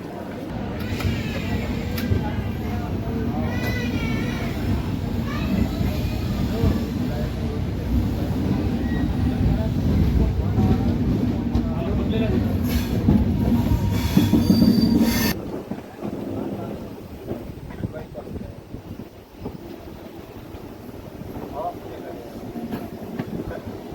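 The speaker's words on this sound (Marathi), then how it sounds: "12:02 पूर्णा जंक्शनवरून आपली ट्रेन निघालेली आहे" A Humsafar Express train departs Purna junction, its wheels squealing and rumbling loudly for about fifteen seconds before fading into a quieter rolling clatter.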